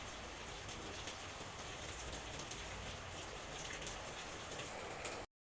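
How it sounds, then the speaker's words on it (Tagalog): Heavy rain pouring down outside, a dense steady hiss of countless drops filling the whole clip at an even level before cutting off abruptly, with no voices. "Umulan, lakas na ulan sa labas, so kung naririnig nyo"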